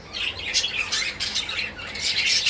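Pet java sparrows and cockatiels in a home bird house give sharp, high squawks and chirps. The calls overlap in a steady, busy stream at close range, with no talk.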